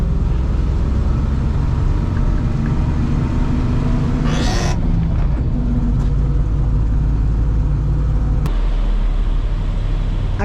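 A farm vehicle's clutch pedal lets out one brief squeal partway through, heard over a loud, steady engine rumble inside the cab.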